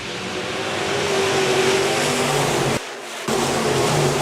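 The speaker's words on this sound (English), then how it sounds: "So with 1 lap scored complete, we'll go back to green flag racing." B-Modified dirt-track race cars at a speedway accelerate at a green-flag restart, their engines forming a loud, dense roar that swells and holds, with a brief dip partway through before the full roar returns.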